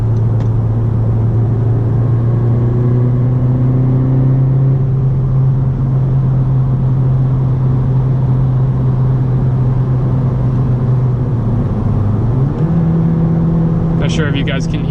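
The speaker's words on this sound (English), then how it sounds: "Gives you some kind of idea how loud the engine can be from inside the" Engine drone of a 2017 Honda Civic Si four-door heard from inside the cabin at highway speed around 65 mph, a steady loud hum that shifts pitch upward near the end after a downshift, with road rumble beneath.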